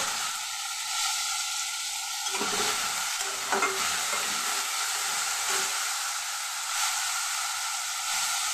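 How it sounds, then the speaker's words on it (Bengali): Potato and brinjal chunks frying in hot oil in a wok: a continuous loud sizzle and hiss, with a few scraping clinks of a spatula stirring, close to the pan and without any talking. "আমি এখন আলু আর বেগুনটা একসাথে ভাজা করে নেব।"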